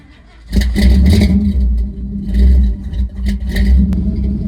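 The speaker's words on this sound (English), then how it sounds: "Just do a cold start on this thing here. Hear that sounds with the side exit exhaust." A 1955 Chevy engine cold starts through a side exit exhaust with a heavy, uneven rumble and a stuttering miss, loud and close. The rough idle swells and dips for several seconds.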